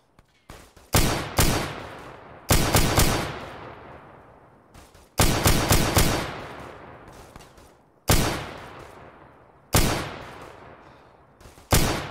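Loud bursts of gunfire and rocket blasts from Arma 3 with a Warhammer 40K mod, including an ork tank buster, come in four heavy clusters of rapid shots. Each cluster trails off into a decaying rumble before the next volley.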